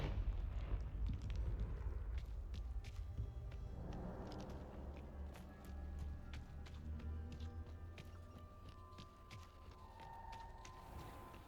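Confringo fire spell blast in the Hogwarts Legacy video game, a dense rumbling burst with crackling debris lingering over low booming noise for several seconds, no talk.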